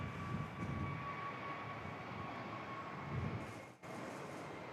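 A Jetstar passenger jet departs Perth for Adelaide, heard from a distance as a steady, broad engine roar that holds at even loudness throughout, with no voices present.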